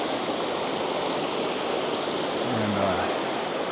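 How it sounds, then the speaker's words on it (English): Pine Creek Falls, a forest waterfall on a Montana trail, pours as a steady, dense broadband rush that fills the whole clip, with a brief low tonal hum near the end. "Pine Creek Falls, y'all."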